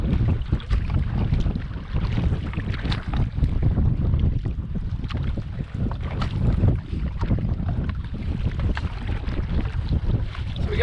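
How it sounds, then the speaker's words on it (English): Steady wind roars across the microphone while boating on White Otter Lake into a headwind, a continuous loud rush with gusty swells and water wash beneath, no voices. "So we got a bit of a headwind."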